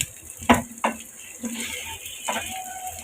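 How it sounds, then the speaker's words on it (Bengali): Dried fish (shutki) frying in a pan, a soft sizzle beneath a few distinct metallic scrapes and clinks of a spatula against the pan, close and clear with no talking. "এখন এটা আমি একটু গোল্ডেনি শাখা পর্যন্ত একটু ভাজতে থাকি"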